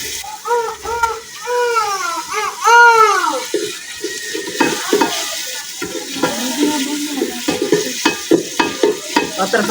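Spices for a potato curry sizzle and crackle as they temper in hot oil, with stirring and a voice speaking over the frying.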